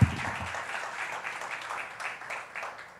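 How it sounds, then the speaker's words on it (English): Applause from the audience at a community grant award ceremony, a soft, steady patter of clapping that swells and fades slightly, heard from a distance with no voices on top. "every partner in here deserves a round of applause."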